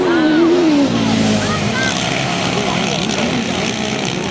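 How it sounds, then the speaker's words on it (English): Engine of a left-hand grasstrack racing sidecar outfit from 2009, revving hard as it powers out of a corner, a loud continuous roar with rising pitch under a race commentator's voice. "Squeezing the throttle real hard as he powers out of the corner"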